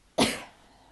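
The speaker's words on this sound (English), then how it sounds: "I'm getting a cough now as well." A single sharp, close cough that bursts out suddenly and trails off quickly into quiet.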